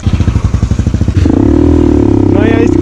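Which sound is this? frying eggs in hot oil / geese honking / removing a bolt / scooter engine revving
scooter engine revving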